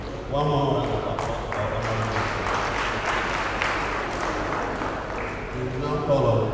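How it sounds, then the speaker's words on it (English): Audience applause at a regional business forum, a broad steady wash of clapping that holds for several seconds at moderate loudness, with voices murmuring beneath it. "One more round of applause."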